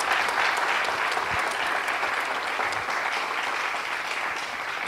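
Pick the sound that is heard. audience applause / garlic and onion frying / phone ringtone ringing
audience applause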